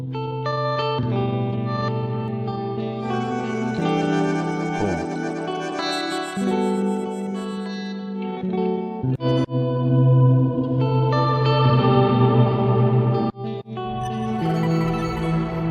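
Free VST effects plugin presets play as a lush, continuous wash of chorused, reverberant synth-like tones with echoing textures and shifting chords, loud and steady, with no talking.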